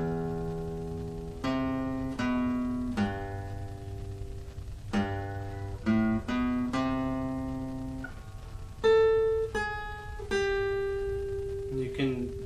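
An electric guitar picks the Yu-Gi-Oh! Season 1 theme riff, a clean, moderately quiet sequence of plucked single notes in short phrases that ring and decay, played solo.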